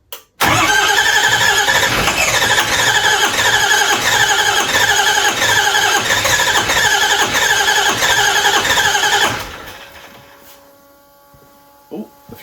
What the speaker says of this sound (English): the fuel pump sounds better